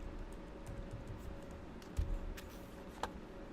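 Typing on a computer keyboard: a short run of quiet, close key clicks with a couple of louder taps, faint and alone.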